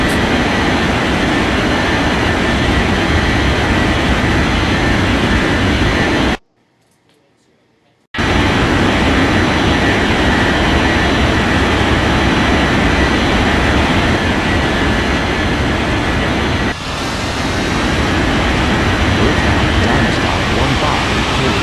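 Jet airliner roaring through its takeoff run in the air traffic control game Unmatched Air Traffic Control, a loud steady engine rumble that cuts out for about two seconds mid-clip before resuming and swelling slightly toward the end.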